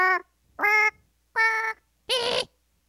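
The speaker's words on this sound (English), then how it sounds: "each episode has this soundboard that you can use to make weird sounds. Like we have this bird piano here." Four short bird-voiced musical tones from the bird piano soundboard in the Angry Birds iPhone game, each a clear, evenly spaced note with the last one harsher and squawkier, played alone with no talk.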